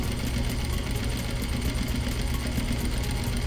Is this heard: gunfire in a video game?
no